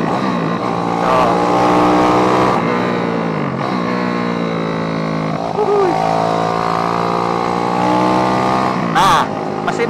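An Astrea Grand motorcycle with a 190 cc Jongseng engine rides along a road, its engine note rising and falling through gears as it accelerates, close and loud, with someone talking over it.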